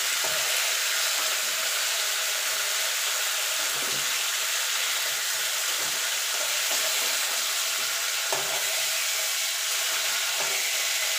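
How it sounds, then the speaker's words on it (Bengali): Broad beans and potatoes fry in oil in a pan, giving a steady, dense hiss of sizzling that holds at an even level from start to finish, close up and with no voices. "সিম আলুটা ভাজা হয়ে গেছে"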